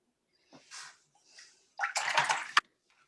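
Brush and water being worked across watercolour paper while softening ink lines, giving short wet swishing strokes and then a louder burst of splashy, sloshing sound that ends in a sharp tap, close and alone.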